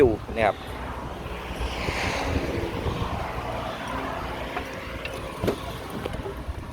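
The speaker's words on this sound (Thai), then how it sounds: "เดี๋ยวเราลองสตาร์ทเครื่องยนต์" A used 2012 Kubota L4708 tractor, fitted with a front blade and a disc harrow, cranks briefly and then settles into a steady, low engine drone under gusty wind noise, with someone talking over it.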